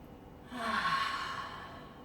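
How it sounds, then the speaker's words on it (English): A single deep exhale during a yoga breathing exercise, soft and close, swelling into a long airy breath that slowly fades out against quiet room tone. "Last one, get everything out on the exhale."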